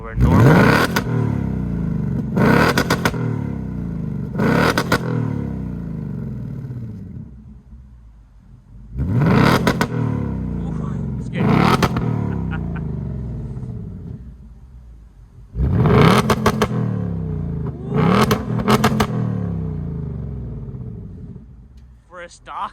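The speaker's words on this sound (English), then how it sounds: "Stock exhaust, that is loud in track." Stock active exhaust on a 2024 Ford Mustang GT V8 in track mode, revved in repeated sharp bursts with a deep rumbling idle between them, loud and close, with someone talking over parts of it.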